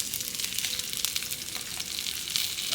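Food sears in an oiled cast iron pot outdoors while a rib eye is being cooked, giving a brief, steady, hissing sizzle at moderate loudness with no voices.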